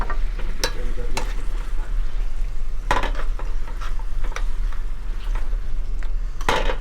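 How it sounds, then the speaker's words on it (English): Potato gnocchi are stirred through a simmering oxtail ragu in a pan, giving a steady sizzle with repeated scraping and clinks of a spoon against the pan, close and continuous, with no voices. "Add your gnocchis. You can kind of cook the gnocchi in the sauce too."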